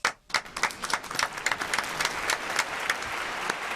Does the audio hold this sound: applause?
yes